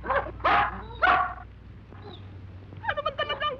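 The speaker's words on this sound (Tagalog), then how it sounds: "Aso ko nga pala." A dog in a Filipino action film barks several times in short, close bursts, with a softer run of yips or whimpers near the end and faint background noise between.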